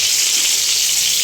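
Prawns frying in oil in a pan on a gas stove, giving a steady, even sizzle with no break and no voices.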